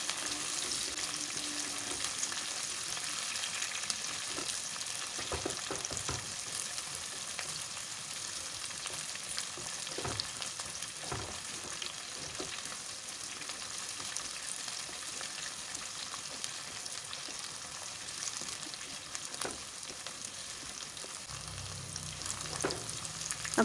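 Onions browning in a pan for a yam stir-fry give a steady soft sizzle throughout, with faint occasional stirring clicks.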